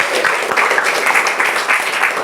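A classroom of students claps together during a lesson, a steady, dense patter of many hands filling the short stretch without pause at moderate volume.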